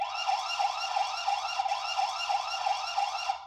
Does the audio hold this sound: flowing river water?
no